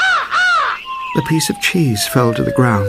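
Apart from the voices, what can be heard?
crow cawing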